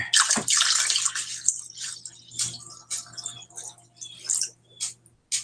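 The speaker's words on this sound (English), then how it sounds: "I'm going to put another couple more cups of water in there" Water pours and splashes into a crockpot close by for a moment, followed by lighter trickles, drips and small clinks over a low hum.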